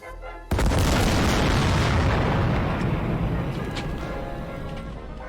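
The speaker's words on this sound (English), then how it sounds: "This part of the wall gets hit by a rocket, it turns to rubble." Rocket striking and blasting apart a wall in the Post Scriptum war game, a sudden loud boom after a brief quiet moment, followed by a long rumbling roar of collapsing rubble that slowly fades.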